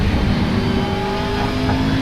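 A racing car engine in the sim game Assetto Corsa holds a steady, loud droning growl for about two seconds with no talking.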